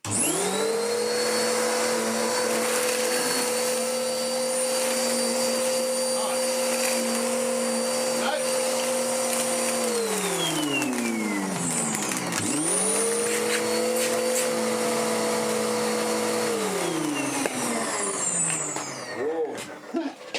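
A Dirt Devil DD6114 upright vacuum cleaner, an Electrolux Contour clone, runs loudly and close, its motor droning steadily, winding down around midway, then spinning back up before tapering at the end.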